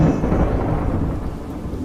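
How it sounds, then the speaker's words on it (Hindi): Thunderstorm in a village, a loud low rumble of thunder rolling over steady rain, fading slightly toward the end. "गांव में तूफान आने की वजह से सब कुछ तबाह हो जाता है।"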